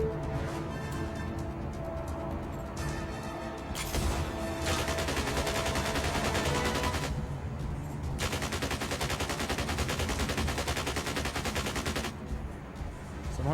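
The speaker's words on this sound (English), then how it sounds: "Somebody was shooting over here. But missing." Rapid bursts of video game gunfire, dense automatic volleys in long stretches broken by brief pauses, loud and close throughout with no talk.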